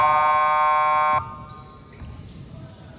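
A basketball game buzzer at YMCA Manila blares loud and steady for just over a second, then cuts off abruptly, leaving quiet court noise.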